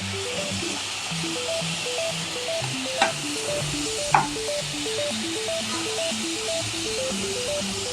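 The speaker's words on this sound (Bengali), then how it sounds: "একটু নেড়ে চেড়ে দিচ্ছি।" Chilli chicken is stirred as it fries in a pan, a steady sizzle broken by two sharp clinks of the utensil, with a melodic background tune playing throughout.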